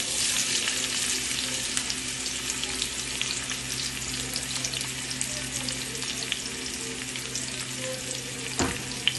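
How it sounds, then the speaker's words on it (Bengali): Chopped onion and garlic sizzle steadily in hot oil in a wok, a dense continuous crackle with faint stirring and one sharp clatter near the end; no one speaks. "এবার আমি তেলটা গরম হয়ে যাওয়ার পর কুচানো পেঁয়াজ আর রসুনটা দিয়ে দেব।"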